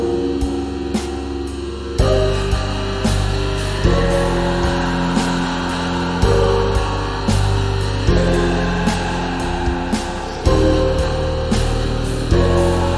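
A dense, loud depressive black metal mix with heavy distorted guitars, pounding drums and a steady wall of sound, no vocals.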